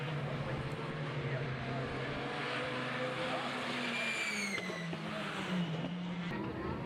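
Formula BOSS single-seater race cars at Mondello Park circuit in Ireland roar past in a pack, engine notes rising and sweeping down with a Doppler pitch shift, while a commentator talks over the noise.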